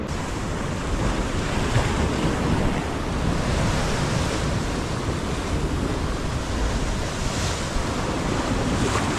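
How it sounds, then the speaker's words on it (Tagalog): Big ocean waves surge and break at a twin sea cave on the Dipaculao coast in Aurora. The surf roars continuously and loudly, with strong wind buffeting the microphone and no talking. "talaga naman alalaki ng alon dito"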